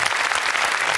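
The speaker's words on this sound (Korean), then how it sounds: "여러분 뜨거운 박수 부탁드리겠습니다" A talk-concert audience gives warm applause to a guest artist and architect, dense, loud and sustained clapping filling the room without a break.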